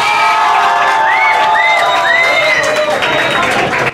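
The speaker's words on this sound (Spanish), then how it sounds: "Aplausos para Mael Orlando" A talent-show audience erupts in loud cheering, whooping and clapping, with high shouts and whistles riding over a dense, continuous crowd roar that never lets up.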